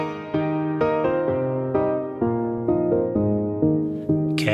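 A muffled FL Studio beat with the high-cut filter set too low, playing a dull, bass-heavy chord pattern that changes roughly every half second, ending in a sudden bright burst.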